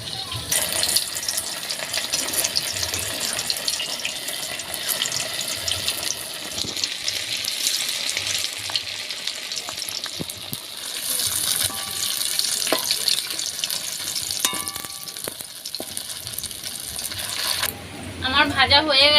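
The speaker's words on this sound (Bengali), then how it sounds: "তেল গরম হয়ে গেছে, এবার এটা তেলের মধ্যে দিয়ে দিচ্ছি।" Sabudana pakoras frying in hot white oil in a kadai make a continuous bubbling sizzle that runs steadily throughout, shifting to a different clattering sound near the end.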